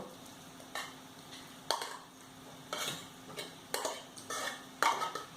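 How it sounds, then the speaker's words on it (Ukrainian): A fork mashes fish against a plate in about six short, evenly spaced strokes, close up in a quiet room. "і подрібнюємо за допомогою вилки"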